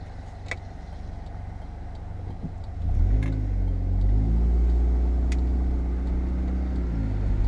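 A car on a test drive after a transmission filter change and rebuild accelerates gently at low RPM, its engine a steady low rumble that rises slightly in pitch and holds a constant drone.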